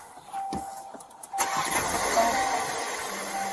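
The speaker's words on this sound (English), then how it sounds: "Should I shut the car off?" A car engine idles steadily nearby for a few seconds after a couple of soft clicks and a thump, with no talking.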